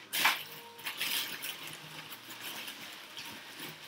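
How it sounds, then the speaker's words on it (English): A handful of ice cubes dropped into a smoothie blender gives a sharp clatter at the start, then lighter rattles and clinks as the pieces settle, close and quiet. "we're going to need a handful of ice. So I'm going to put that"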